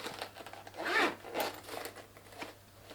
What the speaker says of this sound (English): Again, zip up,